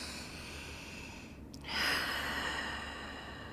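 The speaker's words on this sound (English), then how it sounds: "let's take 3 deep breaths here, in and out of the nose" Slow, deep breaths drawn in and released through the nose during a relaxed hip-opening yoga class, a soft airy exhale swelling midway. No talk.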